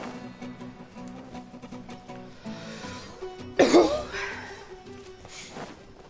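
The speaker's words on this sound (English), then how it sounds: "Cough, oh dear." A single loud cough bursts out over background game music and sound effects, brief and close, followed by a short trailing throat sound.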